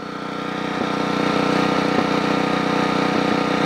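A Generac 8838-0 portable generator engine runs at a steady loud drone, with a faint regular popping woven into the even mechanical hum.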